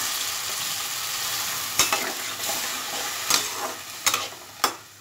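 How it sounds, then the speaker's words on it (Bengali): Vegetables frying in a pan hiss with a loud, steady sizzle, and several sharp bursts of spitting and crackling break through near the end. No one speaks. "তো এইবার আমি জল অ্যাড করব, তবে সেটা খুব বেশি নয়"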